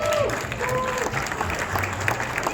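A crowd claps loudly and steadily to welcome McLaren Formula E driver Jake Hughes on stage at the McLaren stand at Goodwood Festival of Speed, with a host's voice briefly audible over the applause at the start.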